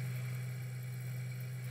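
Low, steady hum of a tractor engine idling in Farming Simulator 2013, constant and even with no talk over it.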